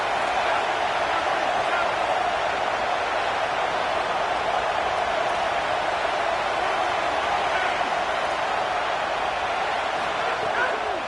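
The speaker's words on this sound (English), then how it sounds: "Decibels rising as the crowd gets behind this defense on 3rd down." A roaring football stadium crowd cheers its defense on third down, a dense, steady wall of noise that stays loud from start to finish under the din.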